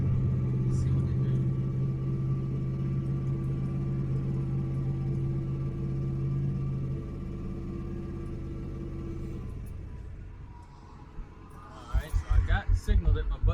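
A 1000hp Ford Crown Victoria fitted with a Holley Terminator X Max holds a steady, deep rumble near 2,000 RPM. The engine then cuts off, and a few sharp knocks follow at the end.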